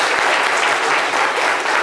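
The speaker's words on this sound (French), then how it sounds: "on peut applaudir très bien" Studio audience on a French radio-style talk show applauds loudly and steadily, a dense continuous clapping that fills the whole short stretch with no pauses.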